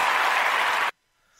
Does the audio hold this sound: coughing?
no